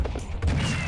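A shotgun fires in the video game Serious Sam HD: The Second Encounter: a short, punchy burst of gunfire with a mechanical tail, heard close and loud in under a second.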